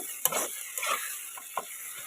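Masala frying in a pan for an onion and egg curry is stirred with a utensil, giving a few distinct scrapes and clacks over a soft, constant sizzle; close and fairly quiet, no voices.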